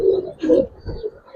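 Giribaz pigeons at a pigeon farm give a few low, throaty coos in quick succession, close by and fairly loud, with no talking.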